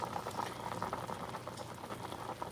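Short rib stir-fry sauce of soy sauce and vinegar boils in a pot, giving a steady close bubbling and popping that continues evenly throughout.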